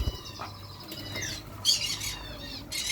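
Conure parrots squawk out of their open cage, giving a few harsh, shrill calls in quick bursts that sound close and loud.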